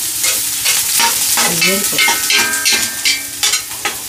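Plenty of garlic frying in a large cooking pot, sizzling steadily while a utensil scrapes and stirs it in repeated strokes, close and fairly loud, with no talk.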